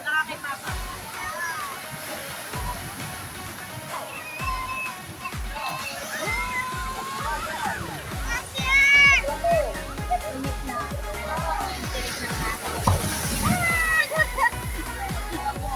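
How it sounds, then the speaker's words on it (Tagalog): Sea water sloshes and splashes repeatedly in surging bursts as strong waves hit, while children and other voices talk and call out over it during a beach picnic swim. "Ang lakas ng palo ng alon."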